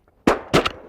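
Shotgun shots fired while duck hunting for wigeons, pintails and redheads in South Texas, two sharp blasts in quick succession, the second with a quick echoing follow-up, loud and close.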